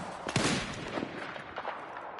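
Gunfire in the Battlefield 6 video game, a single sharp crack near the start followed by faint distant shots and scattered rumble at low volume, with no speech.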